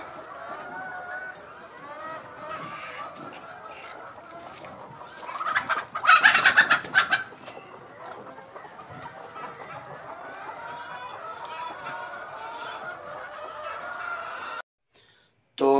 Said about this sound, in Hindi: तो चलते हैं, पहले आपको दिखाते हैं मुर्गियां।